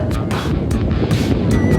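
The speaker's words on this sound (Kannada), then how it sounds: "ಕಣ್ಣು ಕಾಣೋ ತನಕ ಸಮುದ್ರ, ಅಲೆಗಳು, ಅಲೆಗಳ ರಭಸ," Sea waves along the Surathkal coast near Mangalore in the evening, a steady broadband roar of surf with repeated washes building and falling, heavy wind buffeting across the microphone throughout.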